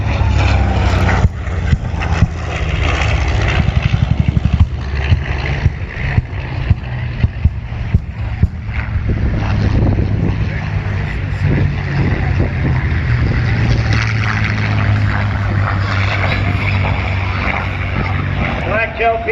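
Vintage propeller aircraft flying at Oshkosh AirVenture, including black-tail P-51 Mustangs, give a steady, loud engine drone that runs throughout under an announcer's voice over a public address system.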